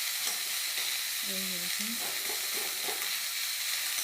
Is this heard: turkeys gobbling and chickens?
no